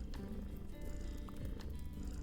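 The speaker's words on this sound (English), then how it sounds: "I know there's a purring sound." A cat purring close by, a steady low continuous rumble that runs unbroken through the short moment, with no talk over it.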